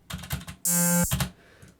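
A bare synth pluck with no LFO pitch or volume automation sounds as short, dry, repeated blips. In the middle a brief, bright held tone cuts in, and the pluck pattern returns softly at the end.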